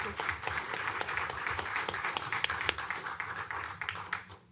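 Applause from a crowd at a local business pitch event honors two contestants, a moderate round of clapping with a few sharp claps standing out over a fairly quiet room, thinning slightly by the end.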